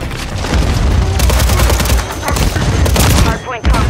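Loud grenade blasts and heavy gunfire in Call of Duty MW3 Zombies, a continuous barrage of booms and shots with a sharp drop near the end, faint voices buried in the mix.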